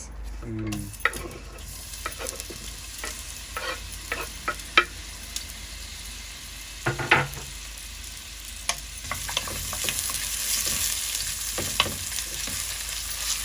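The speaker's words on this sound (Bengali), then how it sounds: "তেল দেওয়া হয়েছে করিয়ার মধ্যে এখন পেঁয়াজ দেওয়া হবে" Onions sizzle in oil in a wok, a steady, moderate frying hiss punctuated by repeated sharp scrapes and taps of a spoon stirring against the metal.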